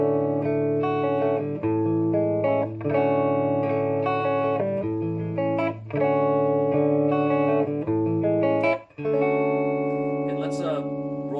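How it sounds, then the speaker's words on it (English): Clean electric guitar notes ring out through a modified Fender Musicmaster Bass tube amp, sustained chords and single tones that shift every second or two, warm and fairly loud. "So if I wanted to play something nice and pretty, I'd just roll the guitar volume off"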